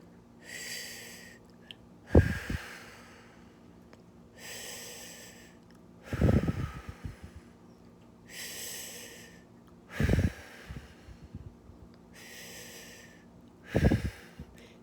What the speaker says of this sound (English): So I breathe for a little bit.